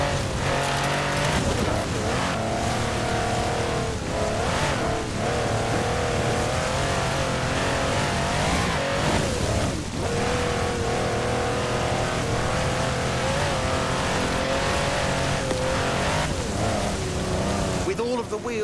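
A Mercedes G-Wagon 6x6 with a 5.5-litre twin-turbo V8 drives hard, its engine revving and roaring continuously with some tire noise, under steady talk.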